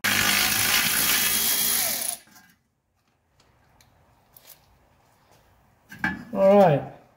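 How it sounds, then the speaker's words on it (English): Wrench work on a nut at the brake dust shield of a 1985 Mercedes 300SD, a dense metallic clatter and rattle for about two seconds, close and loud, then quiet with faint taps and a brief voice at the end. "So we'll go ahead and take that nut off there now."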